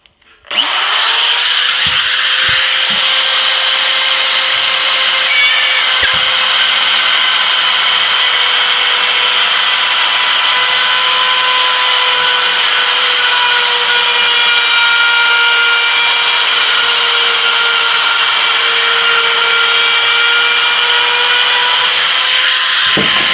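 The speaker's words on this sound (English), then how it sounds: "how to Rotozip out a light" A Rotozip spiral saw cuts a round light opening in a sheetrock ceiling, whining loudly and steadily for over twenty seconds after a brief start-up, close and continuous, with slight pitch dips as it bites.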